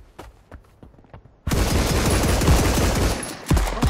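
Gunfire in the shooter game Marauders: a few scattered shots and footsteps, then a loud sustained burst of automatic fire that carries on for over two seconds and ends with another close shot.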